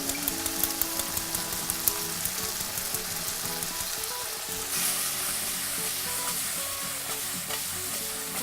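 Jjajang sauce with oyster sauce is stir-fried in a hot pan, a loud, continuous sizzle broken by the light clicks and scrapes of stirring, with no voices.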